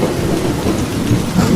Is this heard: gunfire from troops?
no